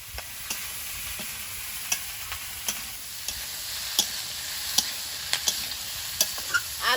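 Potatoes and onion stalks frying in a pan give a steady hiss and sizzle, punctuated by regular light clicks and scrapes of a spatula stirring them.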